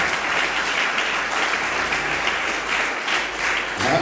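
A church congregation applauds to acclaim the Lord, a loud, sustained round of clapping that holds evenly throughout.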